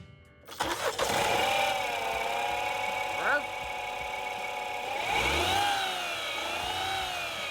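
A car engine, running rough despite new spark plugs and sitting on worn motor mounts, revs up and falls back twice, rising and dropping in pitch, loud and close with no talk over it.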